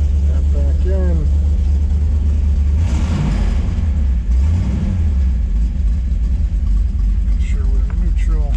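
A 1968 Pontiac Firebird 400 convertible idles in neutral. The exhaust gives a loud, close, steady low rumble, with a brief swell partway through.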